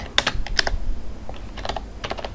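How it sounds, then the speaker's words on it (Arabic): Keywords being typed on a computer keyboard, with close, crisp key clicks arriving in quick irregular bursts separated by short pauses. "هبدأ دلوقتي اكتب كلمات العنوان بشكل منفرد او بجمل قصيرة"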